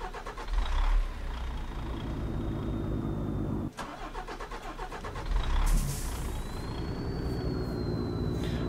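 A cattle truck's diesel engine labors and revs on a dirt road, a loud rough roar with a turbo whistle rising and falling, stalling briefly before pulling again, with no talk over it.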